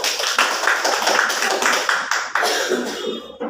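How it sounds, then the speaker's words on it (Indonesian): An audience of teachers at a school workshop claps for a presenter, a close, lively round of clapping with a few coughs and murmurs, tapering off near the end. "Kita berikan tepuk tangan untuk Bu Mila."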